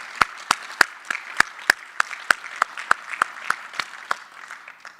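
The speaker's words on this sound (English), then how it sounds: "if we could give them all a round of applause" Sparse applause from a small audience at a Meriden Fire Department change of command ceremony: a handful of distinct, sharp claps repeat in a steady rhythm, close and moderately loud, over a faint room murmur.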